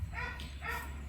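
Dogs at feeding time give a pair of short, muffled yips or barks, faint and somewhat distant, over a steady low background hum.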